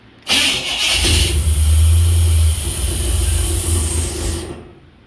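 A car engine cranks and catches after a little fuel is poured into its carburetor, then runs loud and close with a steady low rumble before fading at the end.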